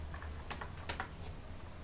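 Keystrokes on a computer keyboard while a command is typed: a few sparse, close clicks in short clusters over a steady low hum.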